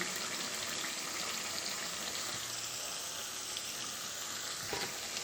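Unniyappam batter fries in a hot unniyappam pan, giving a steady, even bubbling sizzle of hot oil at moderate loudness, with a brief clink near the end and no voices.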